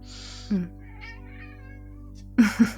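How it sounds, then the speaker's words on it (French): A pet cat meows twice, close and clear, with a short cry near the start and a louder double meow at the end, set against a quiet indoor background. "Il y a mon chat qui approuve."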